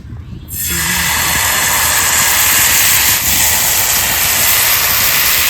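Oil goes onto a hot tawa over a stove for patishapta, bursting into a loud, steady sizzle and hiss after a quiet start, holding for several seconds.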